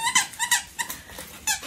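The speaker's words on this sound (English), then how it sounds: "My dog loves squeaky things." A squeaky rubber dog toy shaped like a Tootsie Roll Pop, from the Dollar Tree, is squeezed repeatedly, giving a quick irregular series of bright squeaks close up.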